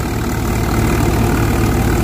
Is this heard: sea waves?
no